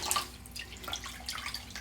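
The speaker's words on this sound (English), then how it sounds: "So we're just going to give this an initial little rinse to get out the excess dye. Give that a little bit of a squeeze." Madder-dyed fabric is rinsed and squeezed in water, giving soft, close splashes and sloshing drips in irregular bursts, fairly quiet and with no talking.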